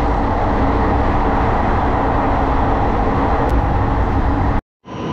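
A Teesta Torsa Express train rumbling along the track, a loud continuous roar of wheels and carriage noise that cuts off abruptly near the end before picking up again.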